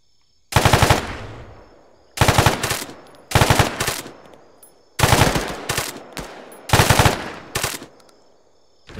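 Machine gun fire in a video game: five loud, close bursts of rapid shots, each spaced about a second and a half apart and fading into a short echoing tail.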